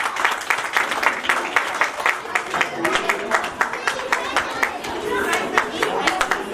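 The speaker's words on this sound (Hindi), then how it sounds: "असां जोरदार ताली वजाईंदासीं" An audience at a Sindhi community social workers' honour ceremony in Jabalpur claps together, giving steady, dense applause across the whole span with a crowd murmur underneath.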